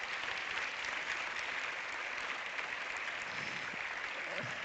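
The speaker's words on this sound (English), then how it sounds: "Big round of applause to them." Audience at a European cinema award ceremony applauding the arriving director and cast, steady continuous clapping filling the room for the whole stretch with no voices over it.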